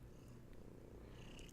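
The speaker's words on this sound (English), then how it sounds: "Oh, the kitten purrs." A kitten purrs close and steady throughout, a soft continuous low rumble with no talk over it.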